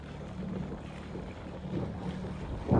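A bow rider skiff cruises across open water on a windy day, with a steady rush of hull and engine noise and constant wind buffeting the microphone, then a louder thump or splash right at the end.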